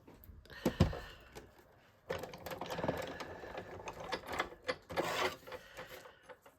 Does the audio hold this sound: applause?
no